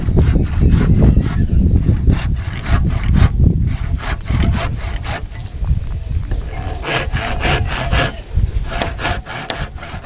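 A hand saw cuts through wood with steady back-and-forth rasping strokes, loud and close, continuing without pause.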